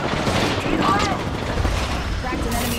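Video game gunfire in a tactical shooter, a dense burst of shots under busy game noise and effects, with voice callouts nearby.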